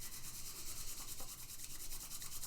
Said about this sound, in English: rubbing our palms together here